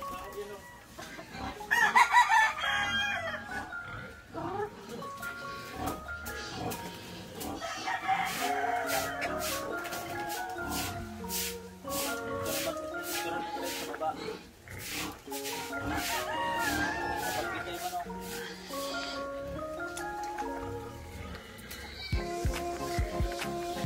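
Chickens cluck and chatter nearby while a rooster crows several times, its calls rising over the flock's steady noise.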